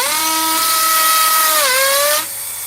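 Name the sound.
power drill drilling a hole in hammer mode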